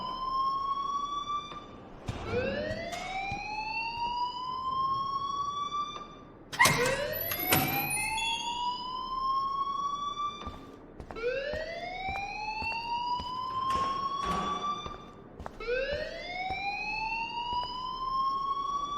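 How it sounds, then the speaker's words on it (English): Repeated rising electronic alarm sweeps in the video game Life Is Strange, a siren-like whoop recurring about every four seconds, loud and steady, with a brief clattering burst midway and no talk. "please turn off that alarm since that's your job"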